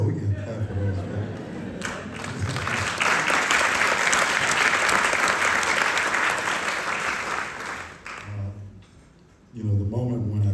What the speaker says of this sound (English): Yeah, we can clap for those.